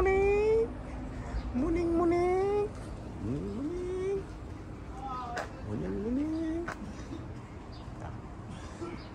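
A cat at a street spot in Sokcho, South Korea gives a series of rising, drawn-out meows, about five in a row, close and clear over faint outdoor background noise.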